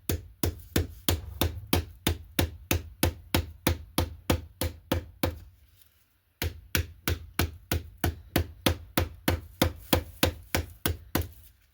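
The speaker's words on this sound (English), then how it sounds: "I'm just going to smack it with my axe." Loud, evenly spaced strikes of an axe smacking sinew on an anvil, about three per second in two long runs split by a short pause near the middle, sharp and close with no talking.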